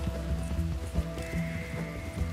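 A horse in Red Dead Redemption 2, with soft hoof clops and a brief whinny over a low, steady game backdrop.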